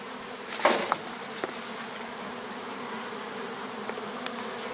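Honeybees flying at an apiary during a linden honey flow, a continuous insect buzz with a louder bee passing close early on, then a steady hum with faint brief ticks.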